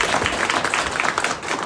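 Audience applause at a spiritual guidance gathering at a Hindu temple-style dham, a short burst of dense, steady clapping from a crowd, fairly loud and continuous.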